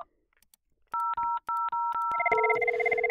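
An IP phone dials a call, giving four short clear DTMF keypad beeps in quick succession, then a steady ringback tone, loud and close with no talking.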